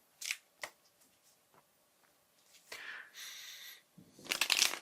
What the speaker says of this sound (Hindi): इन कार्ड्स को मैं अच्छे से शफल कर रहा हूं